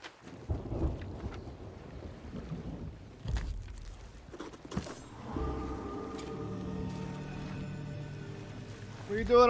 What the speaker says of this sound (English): Sounds like a storm.